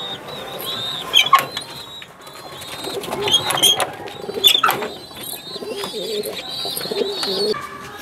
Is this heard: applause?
no